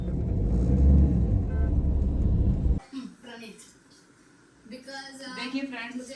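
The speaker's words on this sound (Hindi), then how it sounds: "मैं यहाँ ट्रैफिक में खड़ी हूँ" Road traffic hums around a woman stuck in a jam, a heavy low rumble of engines for the first few seconds, then fading to a quieter background while she speaks over it.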